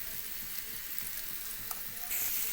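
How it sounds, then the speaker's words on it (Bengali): Pumpkin and potato vegetables with Kashmiri chilli powder and cumin powder sizzle steadily in a pan, a continuous close crackling fry that swells louder near the end, with no talking. "সেটাকে হালকা ভেজে নেব"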